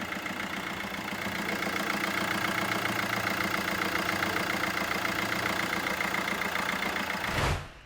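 A Fiat Doblo 1.3 engine idles steadily after carbon cleaning, with a low, even rumble and slight knocking texture, heard up close, then cuts off abruptly at the end.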